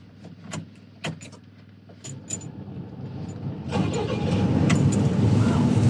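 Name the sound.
old bulldozer engine being started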